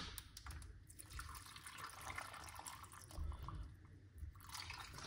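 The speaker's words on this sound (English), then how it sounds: "what you want to do next is put some water." Water runs and splashes steadily into a container, a continuous liquid pour with some low rumble underneath, close by and moderately quiet.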